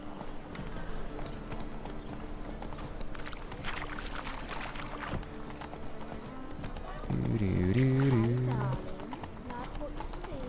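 Horse hooves clip-clop steadily in the Witcher 3 game as a new black horse trots along, a continuous rhythmic patter under someone talking throughout, with a brief horse whinny near the end.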